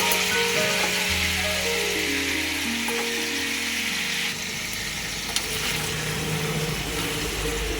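Chicken pieces fry in hot oil with a steady, loud, close sizzle that runs throughout, a faint hum and occasional light clicks underneath, and no talking.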